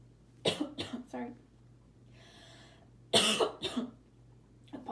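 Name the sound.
coughing from a scratchy throat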